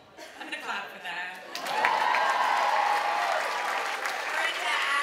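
A crowd at a political victory speech breaks into applause partway through, rising quickly to a loud, sustained wall of clapping and cheering after a few moments of a speaking voice and scattered claps.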